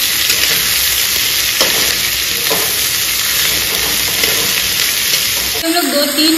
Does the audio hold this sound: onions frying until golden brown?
yes